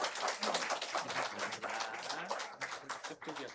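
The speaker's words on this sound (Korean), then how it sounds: "우리 박수로 한번 축복하겠습니다." A church congregation claps in a loose, uneven burst during a Sunday worship service, moderately loud, with voices mixed in under the applause.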